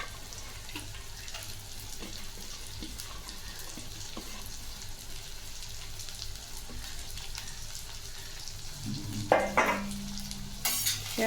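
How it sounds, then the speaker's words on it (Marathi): Green beans (ghevda) fry in oil with a soft, continuous low sizzle while being stirred, occasional faint scrapes, then a brief louder clatter and rush near the end; quiet overall with no talking. "याला पण छान असं तेलामध्ये फ्राय करून घ्यायचं आहे, छान मिक्स करून"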